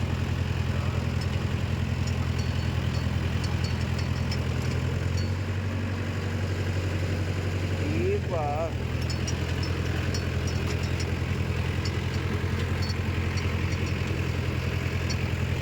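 A Mahindra 575 DI tractor runs with a rotavator attached, a steady low engine thrum held nearby throughout, with a brief rising whine partway through and no talking.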